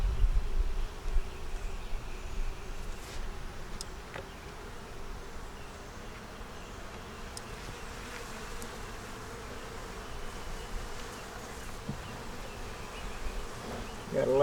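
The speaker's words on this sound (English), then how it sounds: "Got a lot of bees on it." A steady, dense buzzing of many honey bees fills the air, continuous and fairly close, with no talking over it.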